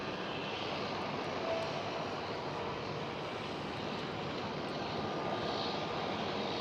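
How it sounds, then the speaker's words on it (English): Transavia Airbus A321neo jet taking off at Schiphol, Amsterdam, a steady broadband engine roar at moderate distance that holds evenly for several seconds with no voices. "And Transavia A321 Neo taking off."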